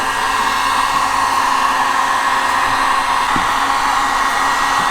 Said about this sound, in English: take a heat gun and heat it up